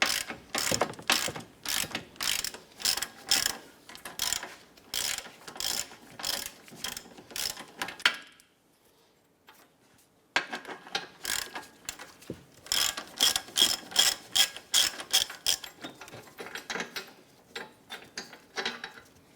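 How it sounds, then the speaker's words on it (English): A hand ratchet works the control arm bolts on a 2010-2016 Cadillac SRX, making bursts of rapid close clicking with a short pause in the middle before the clicking resumes. No one talks. "I'm going to go ahead and finish removing the bolts up front here"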